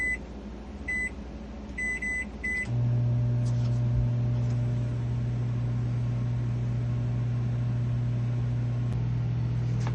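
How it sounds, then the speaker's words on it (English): A kitchen timer in a boat galley beeps in short, evenly spaced bursts, followed by a steady low hum that starts up and runs on without pause. "So our 25-minute timer is done."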